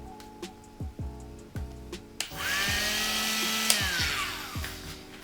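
A Dremel rotary tool fitted with an SC544 wood cutting disc spins up after a few brief clicks and handling sounds, then whines steadily and loudly close by for about three seconds as it cuts, pitch shifting slightly before winding down.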